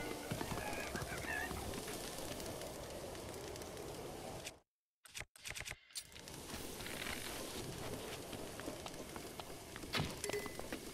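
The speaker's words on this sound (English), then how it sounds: "Oh, go on, run away, horsey" A horse gallops off across open ground in the Breath of the Wild video game, its hoofbeats steady beneath dense ambient game noise that cuts out briefly midway before resuming.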